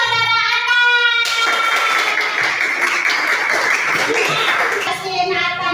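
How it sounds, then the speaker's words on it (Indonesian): A classroom of children claps for a student, bursting into dense, loud applause for about four seconds between stretches of a voice. "Tepuk tangan kepada saudara Atan."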